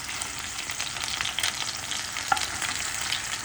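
Wheat-flour fritters frying in hot oil in a pan while being stirred and mixed, a continuous close sizzle with soft scraping and occasional small pops, no voices.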